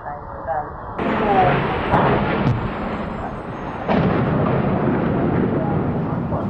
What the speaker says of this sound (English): A second explosion can be heard 9 seconds after the crash.